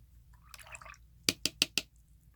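Watercolour brush rinsed in a jar of clean water: a soft swishing stir, then four sharp, evenly spaced taps of the brush against the glass rim, close and fairly quiet, with no talking.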